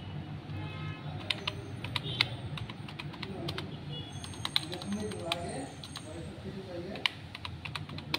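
Quiet, steady typing on a computer keyboard while a note is written in an office program, with irregular key clicks throughout under a low background hum.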